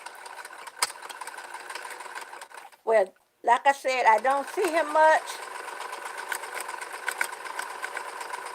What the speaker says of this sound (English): Let me get the sewing machine going.